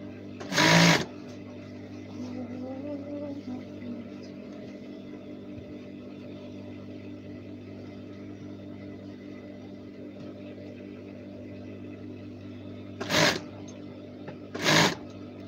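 A sewing machine stitching a uniform waistband runs as a steady, even mechanical drone that holds throughout, broken by a few short louder clacks near the start and end.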